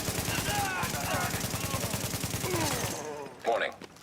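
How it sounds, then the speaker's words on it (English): Repeated grenade launcher shots in The Division, a steady rapid train of reports for about three seconds, fairly quiet and mixed with game sounds and voices, ending in a short burst. "Who was shooting those grenades?"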